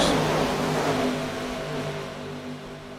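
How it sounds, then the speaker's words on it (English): Gen 4 stock cars racing at Talladega, a loud sustained engine roar that fades slightly as the pack passes, with steady mechanical drone and no pauses. "These Gen 4 cars are screaming."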